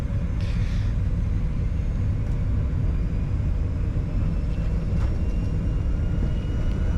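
Challenger 605 business jet engines spooling at take-off thrust on the runway at Subang, a steady loud broadband roar with deep low rumble filling the whole stretch.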